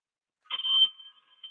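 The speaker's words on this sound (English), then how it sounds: "Wait. Mike. The phone is ringing." A phone rings inside a bag: one short, muffled electronic ring burst, then a faint trailing tone in otherwise near silence.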